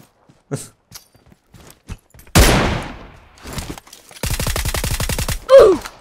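Gunfire in the PUBG Mobile video game: scattered sharp single shots, then one loud burst, and later a rapid automatic volley of evenly spaced shots, all loud and close with no talk.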